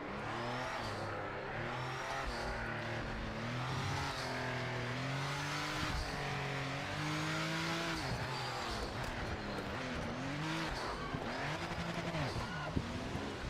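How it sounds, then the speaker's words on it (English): A GT500 race car in the video game Project Motor Racing, its engine revving and shifting steadily with turbo whine and brief tyre squeal, heard continuously up close. "Oh, the turbo."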